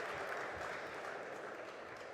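At a WTT Zagreb 2023 men's singles table tennis final, the arena crowd breaks into a steady wash of applause lasting a couple of seconds, fairly distant and diffuse.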